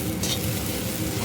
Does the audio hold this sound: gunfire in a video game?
no